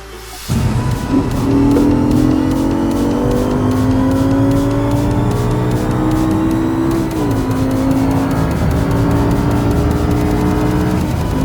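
Audi R8 V10 engine revving loudly up close, rising through the revs in strong pulls, dipping briefly and climbing again, alone with no talk.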